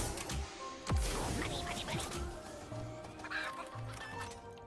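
Chickens cluck in a video game amid busy game music and effects, with scattered short clucks over a steady mix and a person talking now and then.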